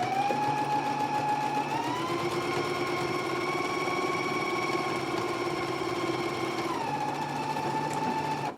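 A sewing machine stitches the center seam of a skirt, a continuous close whirring hum that rises slightly in pitch partway through, steady and alone, then stops abruptly at the end.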